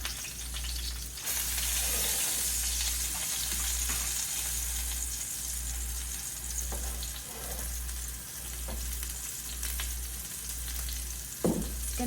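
Swordfish frying in a pan, a continuous close, even sizzle and crackle with a few scrapes, a steady low pulsing hum underneath and a sharper clatter near the end.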